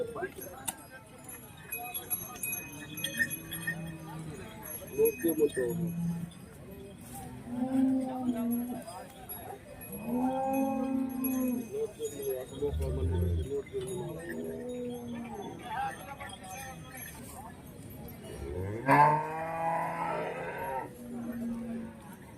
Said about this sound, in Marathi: पूर्ण गाईचा बाजार आहे इकडे